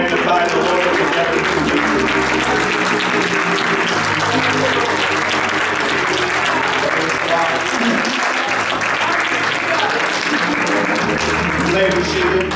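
A church congregation claps along loudly and continuously while music plays underneath, with sustained tones and voices blending into the steady hand clapping.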